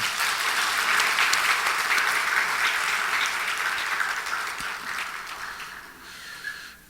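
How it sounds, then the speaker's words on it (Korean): Warm, steady applause from a church congregation during a midweek evening service, continuous clapping throughout that tapers off toward the end. "뜨겁게 박수 한번 하십시다."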